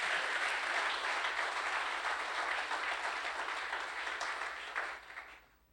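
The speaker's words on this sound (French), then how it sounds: "Nous pouvons acclamer, frères et sœurs." A church congregation bursts into sustained applause, a dense wash of many hands clapping that holds steady and then fades away at the end.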